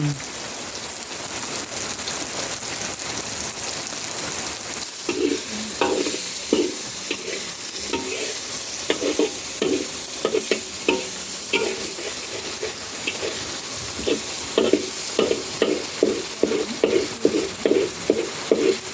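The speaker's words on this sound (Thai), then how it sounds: "ตอนนี้เราก็ปัดหมูกันก่อนนะครับผมปัดหมูให้สุกก่อน" Pork stir-fried in a pan for a bottle gourd dish: steady sizzling runs throughout, and from about five seconds in, a quick run of repeated spatula scrapes and stirring strokes rises over the frying, close and fairly loud, with no talking.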